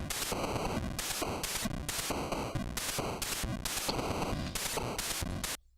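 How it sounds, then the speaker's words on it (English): A homemade NES assembly program drives the console's noise channel in a rapid, even pattern of harsh static bursts with brief gaps between them. The percussion sounds steady and buzzy, then cuts off abruptly at the end. "I need to get the noise channel working so I can get the percussion stuff, which sounds like this."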